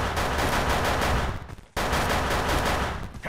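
Rapid pistol fire in the video game Wolfteam Reloaded, tested in its zombie PvE mode: a dense, loud stream of shots runs unbroken for about a second and a half, cuts off briefly, then resumes just as thick.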